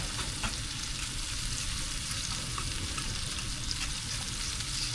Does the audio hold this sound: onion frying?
yes